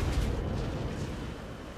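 Incoming battleship shells land with heavy rumbling booms in a naval battle game, a dense low roar of blasts that starts loud and slowly fades.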